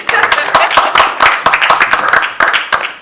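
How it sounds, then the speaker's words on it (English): A crowd claps together in a dense, steady round of applause with scattered sharp hand claps, close and fairly loud, lasting a few seconds. "round of applause."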